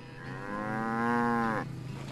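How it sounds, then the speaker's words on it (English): A cow on a small cattle farm gives one loud, drawn-out moo lasting over a second. The call is close and clear against a faint background, with no talking. "he's tending to a small herd of cattle."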